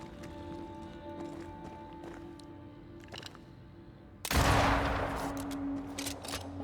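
Gunfire in the video game Banishers: Ghosts of New Eden: a sudden loud burst of shots breaks over a quieter ambient stretch with faint scattered clicks, then a dense rumbling barrage continues to the end.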